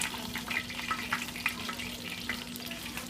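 Fry bread dough cooks in a pan of hot oil, giving a steady close sizzle dotted with small crackles and pops for about three seconds, with no talking.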